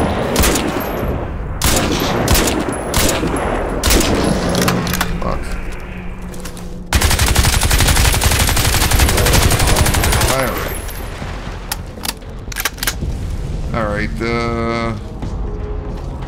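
Crysis 2 Remastered gunfire: rapid machine-gun bursts and sharp single cracks, loud and close, broken by short pauses, with a voice speaking over the shooting.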